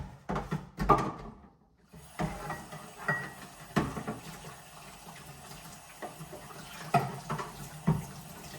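Removable parts of an aging washing machine are rinsed by hand under a running tap, with short bursts of water splashing and plastic pieces knocking and clattering, close by, separated by quieter pauses.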